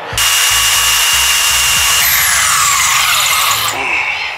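A dirty TIG welder tungsten electrode tip is ground on a motorized grinder, giving a loud close continuous high whine with shifting scraping tones for about four seconds.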